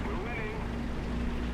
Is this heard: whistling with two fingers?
no